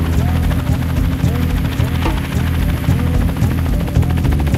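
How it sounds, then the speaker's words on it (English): Heliops chopper flying over the Bay of Islands, its rotor thumping in a steady, close, loud drone that continues throughout, with a voice talking over the engine noise. "we're starting on this thing here, a helicopter"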